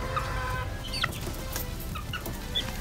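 Sweater gamefowl pullets cluck softly at moderate distance, giving a few scattered chirpy calls over a low rumbling farmyard background, with no one talking.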